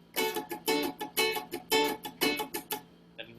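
Guitar strummed in a play-mute pattern, bright strums alternating with choked, muted hits in a steady rhythm, close and alone, ending on a light tap.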